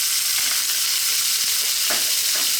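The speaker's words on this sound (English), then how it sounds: "now we're going to drop in our onion" Small chopped onion hits a hot pan on high heat and fries with a loud, steady hiss, broken by a few short scraping stirs.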